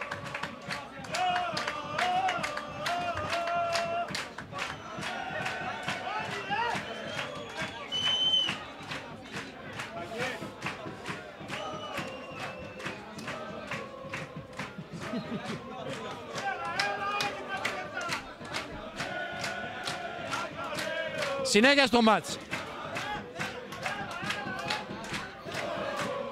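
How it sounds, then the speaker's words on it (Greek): Achaiki supporters at a third-division Greek football match against Panachaiki cheer and clap in the stadium, a continuous crowd roar with a brief louder surge, under a commentator's running talk. "Όλοι τώρα οι φίλοι της Αχαϊκής χειροκροτούν και πανηγυρίζουν"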